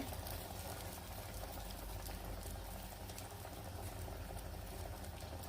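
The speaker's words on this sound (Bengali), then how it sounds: "এইভাবে করে আমি সবগুলা ভেজে নিব" Dhankuni leaf patties sizzle in hot frying oil, a steady, dense crackle and hiss that holds at the same level throughout without any pause.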